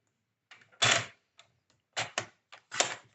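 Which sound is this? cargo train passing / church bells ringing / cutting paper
cutting paper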